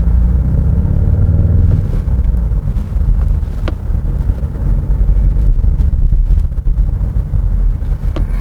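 Steady low synthesized engine sound inside a 2022 Genesis GV70 2.5 turbo AWD in sport mode, continuous and fairly loud with a deep, even tone and some road rumble underneath.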